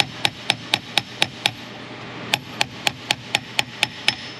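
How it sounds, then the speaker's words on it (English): Small hammer tapping a part into place while working on a 2015 Cadillac SRX axle: about a dozen sharp, evenly spaced metallic taps in two quick bursts separated by a short pause, close and clear. "Just gonna tap it on in there."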